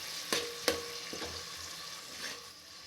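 Ground paste for mint rice stirred in hot oil, with a steady sizzle and a few sharp scraping strokes of a spoon against the pan, alone and fairly quiet.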